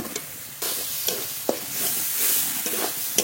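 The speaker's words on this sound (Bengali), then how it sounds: "মশলার সঙ্গে আলু একটু নেড়ে নিয়েছি" Fried potatoes are stirred into a spice paste in a pan, with a close sizzle under repeated scraping and knocking strokes of a spoon, and no voices.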